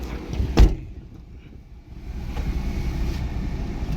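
A car sets off toward a family ceremony: a sharp thump like a door shutting, then a low engine rumble that builds and settles into steady driving noise.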